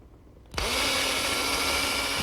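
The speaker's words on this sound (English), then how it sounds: "I'm going to drill down at an angle." A power drill starts abruptly and runs at a steady high whine, pre-drilling screw holes at an angle into wood for a garden gate, close and loud with no talk.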